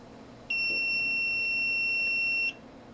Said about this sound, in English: the beep tells you that you've hit the threshold